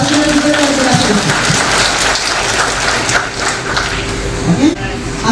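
Loud, dense audience applause fills a conference hall, a steady wash of many hands clapping that swells and holds throughout without pause.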